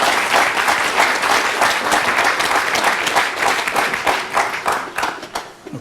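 Audience applause in a county executive debate hall in Frederick County after a candidate's closing statement, a dense steady wash of many hands clapping that fades toward the end.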